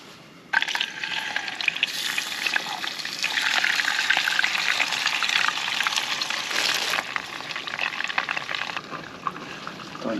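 Perch fillets hit a hot pan outdoors and sizzle loudly and continuously, with crackling spatter that rises then settles slightly.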